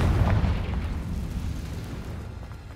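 A Confringo fire spell bursts in Hogwarts Legacy, a deep rumbling blast that rolls on as a sustained low roar and slowly fades.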